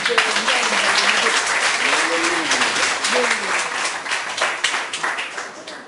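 Steady applause from a crowd at an anti-tobacco advocacy ceremony fills the whole stretch, dense and continuous, with a voice murmuring faintly underneath before the clapping thins slightly toward the end.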